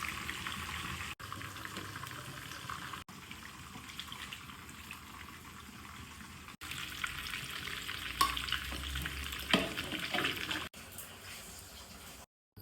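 Sliced onions added to beef bhuna, simmering with tomato and spices, hissing and sizzling steadily in the pan, broken by brief gaps and a few louder stirring scrapes.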